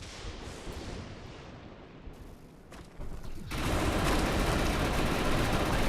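Gunfire in a multiplayer shooter game, a dense continuous burst of rapid shots that starts mid-clip and grows louder, preceded by quieter rumbling battle noise, with no voices.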